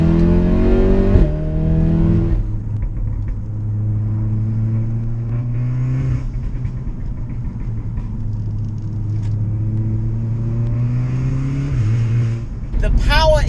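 Tuned, methanol-injected 540 bhp Audi S3 downshifting from fifth through fourth to third under light braking, its engine note climbing toward 4,000 RPM in steady, loud revving steps with someone talking over it throughout.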